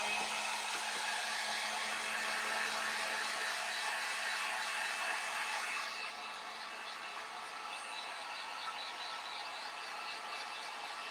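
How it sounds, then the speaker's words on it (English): A heat gun on its low setting, drying a stencil, gives off a steady, fairly loud blowing whir. The whir drops a little in level partway through and continues alone, with no talking. "I'm just going to put my heat gun on the low setting."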